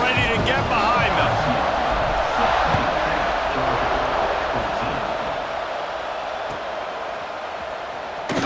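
A stadium crowd roars steadily in EA Sports College Football 26, a dense, continuous wall of cheering that stays loud throughout before easing slightly near the end, with game commentary layered over it.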